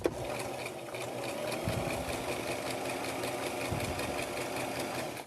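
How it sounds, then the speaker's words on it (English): A home sewing machine stitching a small test scrap of fabric, a steady rapid mechanical whir and patter running continuously at close range, with a couple of brief low knocks along the way. "I just cut off a little piece that I'm going to feed in here, because you don't want to start sewing and then it not sew correctly on your actual project."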